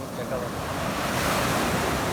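Sea waves wash continuously onto the Black Sea beach at Karasu, a close, steady surf roar mixed with wind buffeting the microphone.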